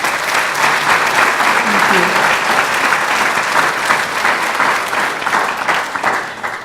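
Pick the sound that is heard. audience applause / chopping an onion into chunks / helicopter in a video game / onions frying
audience applause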